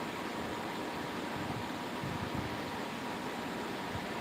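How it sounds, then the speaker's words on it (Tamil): An electric fan running in a room, a steady, even whooshing hum with a faint low rumble, constant throughout with no breaks and no talking. "ஃபேன் ஓடிட்டுருக்கு."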